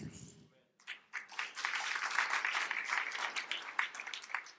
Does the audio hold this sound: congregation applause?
yes